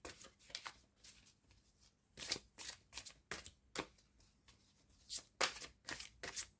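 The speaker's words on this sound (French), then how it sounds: "Allez, on va prendre quelques cartes avec l'oracle." Oracle cards being shuffled by hand in a quiet room, with repeated soft riffling bursts and crisp card slaps in an uneven rhythm, close and faint.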